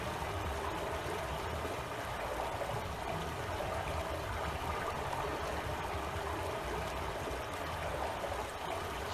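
A stream of water flows steadily with a soft, continuous rushing and trickling, quiet and unbroken throughout, in the VR video game Myst on Meta Quest 2.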